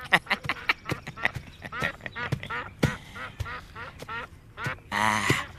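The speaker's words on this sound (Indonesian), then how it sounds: "Nini Mesin, saya bawakan burung meliwis sama jamur barat." Whistling ducks (meliwis) carried as game birds quack and call repeatedly in short, irregular bursts, close and fairly loud, ending in a longer harsh squawk, with no talking over them.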